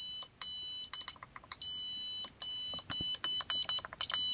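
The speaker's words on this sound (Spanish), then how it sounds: "Si me enciende el LED y se escucha el pitido, nuestro timbre." Bursts of high electronic beeping from a buzzer on a maker FPGA circuit, used as a doorbell, repeating irregularly in short and longer pulses, loud and close with no talking.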